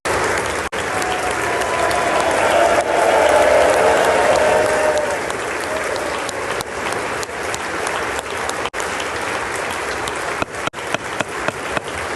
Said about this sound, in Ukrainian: Конгрес зустрів нашого головнокомандуючого оваціями